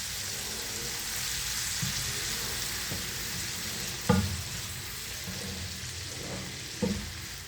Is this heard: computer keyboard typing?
no